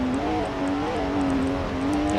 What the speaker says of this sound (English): Gotta love those high revving engines, right?